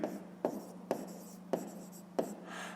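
Pen strokes on paper while working out a fifth-grade math exercise, a steady scratchy scribble broken by four sharp taps, close and alone with no talk.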